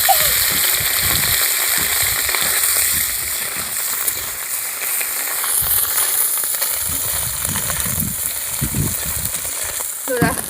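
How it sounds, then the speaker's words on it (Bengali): Halved boiled eggs frying in hot oil in a wok, a steady close sizzle with crackling pops and occasional stirring scrapes throughout, no talk. "আমি কড়াইয়ে তেল দিয়ে নিচ্ছি এই ডিমগুলোকে ভেজে নেওয়ার জন্য"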